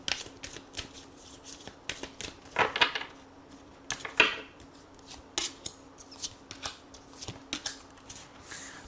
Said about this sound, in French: je vais prendre 3 cartes et on va voir ce que les anges souhaiteraient vous dire